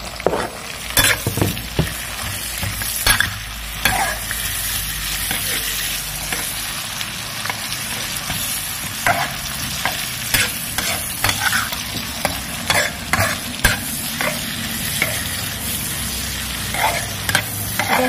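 Garlic, shallots and chili fry in a pan with a steady, loud, close sizzle, broken by repeated scraping stirs of a utensil throughout. No voices are heard.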